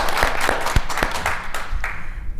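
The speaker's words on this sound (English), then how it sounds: "one more round of applause for our amazing panel" A panel audience applauding at a discussion event on elite athletes with disability, scattered loud claps in an uneven burst that thins out toward the end.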